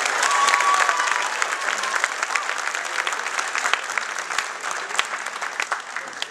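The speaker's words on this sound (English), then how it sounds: "So give them a round of applause." A round of applause from an audience, many people clapping steadily at fairly close range with no other sound, keeping an even intensity throughout.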